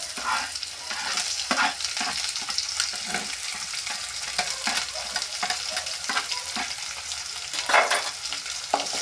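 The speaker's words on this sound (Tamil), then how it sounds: "பச்சை மிளகா வணங்கினா எண்ணெயிலே வதங்கி வரணும்" Around ten chopped green chillies fry in hot oil with a constant close sizzle, broken by a spoon stirring them in regular scraping strokes, and no one talks.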